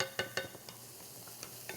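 Sautéing onions are tossed in a hot pan. A soft sizzle runs under a few quick scraping shakes near the start, then fades to a faint, steady frying hiss.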